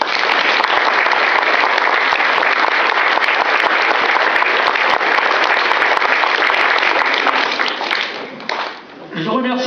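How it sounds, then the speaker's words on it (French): Dense, steady applause from an audience at the inauguration of the Puget-Ville media library, loud and sustained for about eight seconds before thinning out near the end. "on peut les applaudir parce qu'ils sont là"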